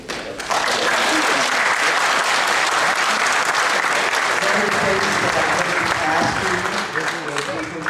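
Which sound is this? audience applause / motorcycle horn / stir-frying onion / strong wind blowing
audience applause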